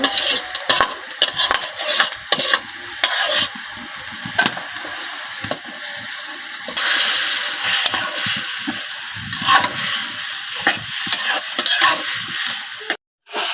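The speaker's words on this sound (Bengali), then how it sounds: "আলুগুলা সুন্দরভাবে দেখেন কষাই দিয়ে দিচ্ছি" Potatoes being stirred and sautéed in a frying pan while cooking a small-fish curry, with continuous sizzling and scraping of a spatula against the pan, steady and close throughout.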